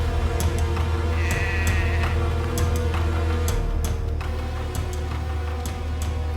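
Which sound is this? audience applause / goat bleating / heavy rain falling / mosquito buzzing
goat bleating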